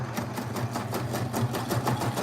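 A sewing machine runs a zigzag stitch across a junk journal page, a steady rapid mechanical chatter with a regular beat, close and continuous throughout.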